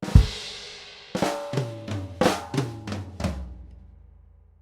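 A drum kit plays quarter-note triplet flams from a Grade 3 lesson arrangement of a rock song: a low thud, then about six evenly spaced, ringing hits that fade out at the end.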